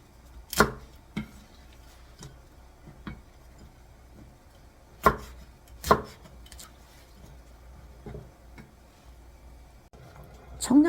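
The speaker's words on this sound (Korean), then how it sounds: "청양고추 2개, 홍고추 하나를 어슷썰기로 썰어서 위에다 올려줄 겁니다." A knife cuts Cheongyang and red chili peppers on a board with sparse, sharp chops spaced irregularly, a few louder strikes standing out against a quiet background.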